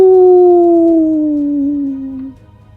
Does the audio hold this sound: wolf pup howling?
yes